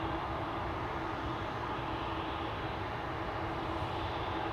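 A KLM airliner, flight 1337 to Wrocław, departing Amsterdam Schiphol, its engines a steady, even jet roar that stays constant and uninterrupted throughout.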